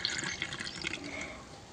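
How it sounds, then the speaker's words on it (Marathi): Homemade sugarcane juice with lemon poured into a glass, a short soft liquid trickle and splash, close and faint. "आता रस आपण ग्लासमध्ये ओतून घेऊया"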